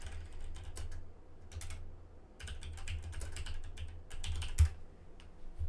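A computer keyboard is typed on in quick irregular bursts of crisp clicks, close up, with short pauses between runs and a low steady hum underneath. No one talks.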